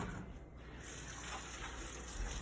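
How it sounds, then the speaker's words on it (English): A kitchen tap runs steadily while freshly cut strawberries are washed under it. The water gives a faint, even rushing hiss throughout, with no speech. "we have cut out a bunch of strawberries here, and now we're gonna wash them"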